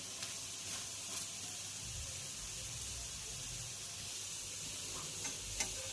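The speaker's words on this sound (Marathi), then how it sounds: "याला खरपूस असं भाजून घ्यायचं आहे" Bottle gourd dhapata flatbread roasting on a hot pan, a steady soft sizzle and hiss close by with a few faint clicks, no talking.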